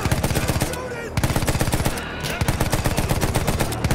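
A machine gun in Battlefield 1 fires long, rapid, evenly spaced bursts, loud and close, with two brief pauses between strings of shots.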